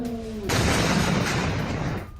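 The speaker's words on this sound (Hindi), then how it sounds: "बड़ा धमाका होता है, बड़ा फायर मशरूम बनता हुआ दिखाई दे रहा है।" A large explosion at a chemical factory struck by an Iranian attack erupts suddenly after a low tone, a broad, sustained roaring blast that rumbles on for over a second and a half before easing.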